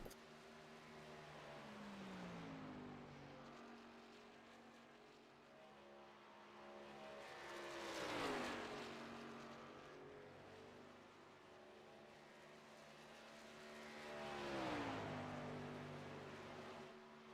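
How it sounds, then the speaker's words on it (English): Race trucks in a Truck Series event at Texas Motor Speedway, engines roaring past in two loud drive-bys with rising then falling pitch, a steady crowd-and-engine rumble between passes. "Fastest truck on the racetrack"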